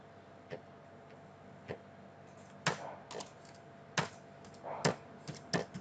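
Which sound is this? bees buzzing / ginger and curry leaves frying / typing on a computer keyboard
typing on a computer keyboard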